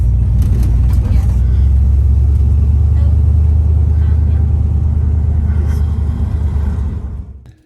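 A 1957 Pontiac Star Chief driving on a snowy road, its steady low engine rumble close and loud, then fading out near the end, with someone talking over it.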